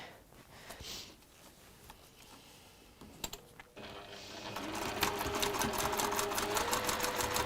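A sewing machine stitches down both sides of a fabric piece with a zip, running fast and steady after a few quiet mechanical clicks and handling noises. The sound is close and even, with no speech.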